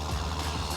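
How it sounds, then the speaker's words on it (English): A small tractor in Farming Simulator 19 is strained and working hard, its steady low engine rumble droning without a break and with no voice over it. "Definitely struggling with this little tractor."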